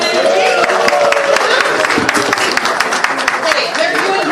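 Audience at a Conservative Party of Canada event in Abbotsford South, Langley, clapping in a room, a dense continuous patter of many hands with scattered sharp claps, mixed with loud talking over it.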